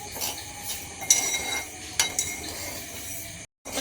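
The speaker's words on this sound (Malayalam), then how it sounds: "ഇത് ജസ്റ്റ് ഇതൊന്ന് ഫ്രൈ ആക്കി എടുക്കാവേ" Parippu lentils fried for payasam in an uruli pot, heard as repeated scraping and clinking stirring strokes with a faint sizzle underneath, fairly close and without talk.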